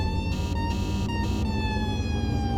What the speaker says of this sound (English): Where's my siren?